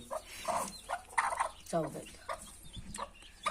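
A hen clucks softly at close range amid faint peeping from her newly hatched chicks, in short scattered bursts.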